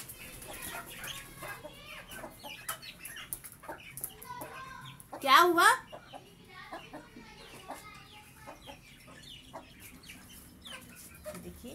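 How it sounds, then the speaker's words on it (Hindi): Hens cluck and chicks peep in short bursts throughout, with one loud squawking call near the middle and a brief voice speaking softly, among household animals. "देखिए मेरे प्यारे असली चूजे और मुर्गे, उनको मैं खोलूँगी।"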